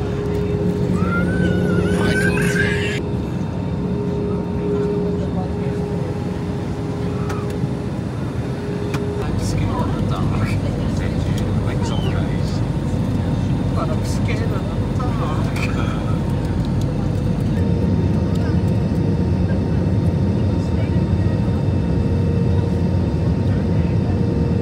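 Steady airliner cabin roar during the descent and landing on a holiday flight from Bristol to Alicante, a constant loud engine and air drone, with people talking over it and a brief higher whine near the start.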